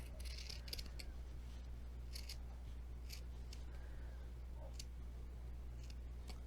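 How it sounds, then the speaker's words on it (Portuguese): Scissors snip through a sewn fabric seam for a doll's polo shirt, giving about a dozen crisp, close, quiet cuts over a low steady hum. "agora eu vou cortar bem no meio dela"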